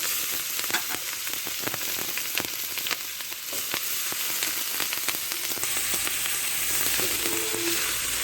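Garlic and ginger paste with whole garlic cloves frying in a pan, a continuous sizzle with clicks and scrapes from stirring, fairly quiet and close.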